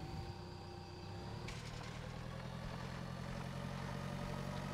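A tractor engine idles steadily in the Pure Farming 2018 farming game, a continuous low rumble with a faint whine that holds at an even, moderate level throughout with no talking.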